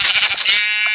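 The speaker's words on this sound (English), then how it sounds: "Some sheep!" Sheep in a Minecraft survival game bleat in a quick run of loud, close, nasal cries that settle into one sustained bleat, with no talking over them.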